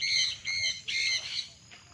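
Birds squawk and call repeatedly on a farm with huts and mountain views in Liliw, Laguna, loud and close in bursts over a low background murmur, with faint voices in the distance.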